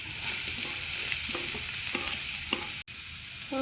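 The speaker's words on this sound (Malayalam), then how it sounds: "ഉള്ളി അരിഞ്ഞതും കൂടി ഇട്ട് കൊടുക്കാം" Chopped onions and green chillies frying with soya chunks in a pan, a loud continuous sizzle with a spatula scraping and stirring in short strokes, close up, with a brief dropout near the end.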